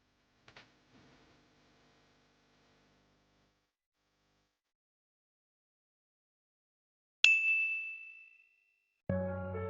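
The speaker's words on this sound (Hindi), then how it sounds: "तेरा फोन बज रहा" Short electronic ringtone tones sound out in a quiet room, one sustained chime followed by another tonal burst after a pause.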